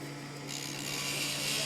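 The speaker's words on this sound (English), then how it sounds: "Using a 3 or 4 millimeter setting burr, we cut a lip or beading upon which the stone will rest." A 3 or 4 millimetre setting burr cutting a lip into gold, a fine whirring grind that rises slightly in brightness and loudness as the cut starts, close and continuous.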